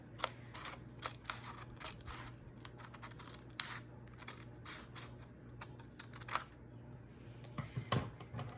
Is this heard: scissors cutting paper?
yes